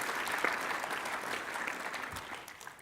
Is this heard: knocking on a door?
no